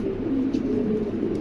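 A pair of jet-black Pomeranian pigeons cooing, a low, steady, throaty coo held close and fairly loud across the brief moment.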